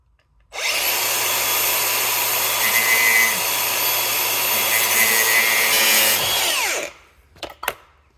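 A power tool cuts a car bumper in half with a loud, continuous whining buzz for about six seconds, then winds down, followed by a few sharp knocks.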